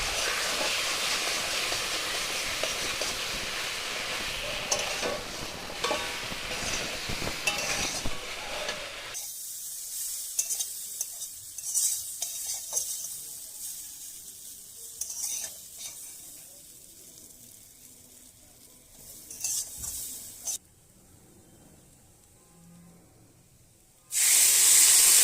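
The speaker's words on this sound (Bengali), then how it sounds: "এবার দিয়ে দেবো পরিমাণ মতো লবণ আর দিয়ে দেবো পরিমাণ মতো হলুদ গুঁড়ো, দিয়ে লো টু মিডিয়াম ফ্লেমে খুব ভালো করে কষে নেব।" Ground spice paste with salt and turmeric frying over low to medium flame, sizzling loudly at first, then dropping to quieter hissing with intermittent stirring scrapes, close and without talk.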